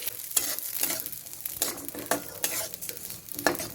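Rice and cinnamon sizzle in a little ghee in a pot, close up, while being stirred, with repeated scraping strokes over a steady frying crackle and no voices.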